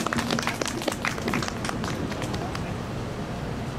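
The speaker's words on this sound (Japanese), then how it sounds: "拍手" Outdoor seaside concert audience applauding before a children's brass band, a burst of dense clapping that is strongest at the start and thins into softer scattered claps and murmur.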